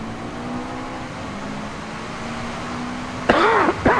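A steady, low engine drone from a car in Gran Turismo Sport runs throughout, then a sharp rising whine and revving burst near the end.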